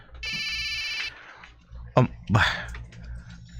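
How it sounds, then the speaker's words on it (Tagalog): A cellphone rings with a bright electronic ringtone for about a second, followed by rustling and a short burst of talking. "Ang cellphone ko."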